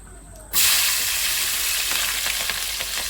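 Green chilli pieces drop into hot oil with a sudden loud burst of sizzling that continues as a dense, steady crackle for the rest of the moment.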